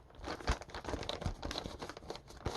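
Loose, wrinkled plastic covering on the elevator of an E-flite Apprentice RTF RC airplane, crinkling and crackling continuously under a moving finger, quiet and close with irregular tiny pops.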